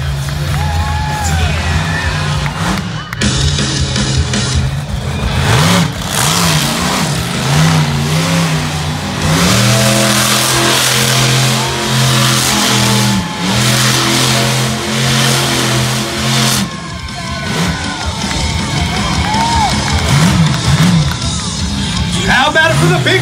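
Samson, a big Chevy monster truck, revs hard while spinning donuts at a 2019 monster truck competition in London, Ohio, its loud engine surging and falling continuously under cheering crowd noise and an announcer's voice.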